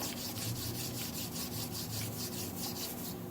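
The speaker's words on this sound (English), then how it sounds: "all I'm going to do is sand across it" Wet sanding the clear coat on a 1958 MGA body panel produces a steady, close rubbing rasp with repeated back-and-forth strokes, continuous and moderately quiet with no talking.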